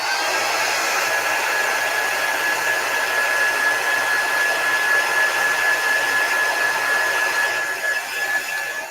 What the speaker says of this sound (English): And our heat tool does have 2 settings. I usually always put it on the high setting.